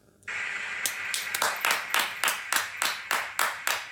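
A small group claps rhythmically in a steady beat of about ten sharp claps, near and moderately loud, following a brief electronic tone at the start.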